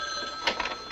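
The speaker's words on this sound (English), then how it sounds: "I think that's the phone." A telephone bell rings in a brief, loud burst of bright metallic trilling, close by and alone, with no talk.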